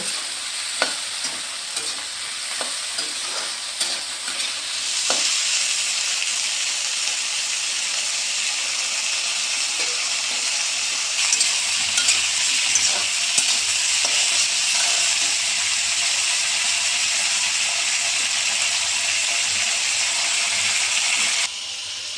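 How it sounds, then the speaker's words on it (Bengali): Paneer sizzles and hisses steadily in a hot pan, with occasional stirring clicks and scrapes, growing louder partway through. "এটাকে একটু ভাজা ভাজা করে নেব।"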